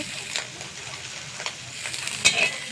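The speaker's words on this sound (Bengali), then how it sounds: "ঘুগনিটা ভাজা হচ্ছে" Ghugni fries quietly in a pan on a clay stove, a faint low sizzle with a few scattered stirring clinks and scrapes, no voices.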